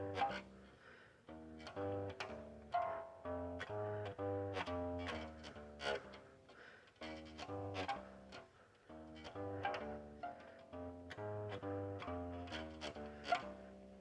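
Electric bass plays the opening of a piece in an upper position, with clear, plucked notes in a steady rhythmic line, close and fairly quiet, with no talking over it.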